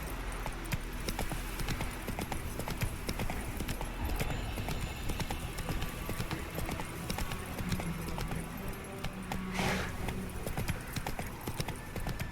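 Roach, the horse in The Witcher 3, gallops with a continuous, close clatter of hooves. The rhythmic beats run steadily over a soft ambient game backdrop.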